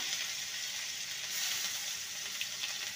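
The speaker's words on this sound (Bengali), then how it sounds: "ভালো করে কষিয়ে নেব যাতে করে আদার কাঁচা গন্ধটা না থাকে।" Grated ginger fries in hot oil with cumin seeds and asafoetida, giving a steady, faint hiss with light crackles throughout and no voices.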